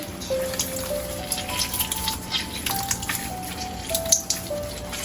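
Beef soup bones washed with vinegar and lime, with steady splashing and dripping water sloshing in a bowl or pot at close range, a continuous wet rinse with small clinks.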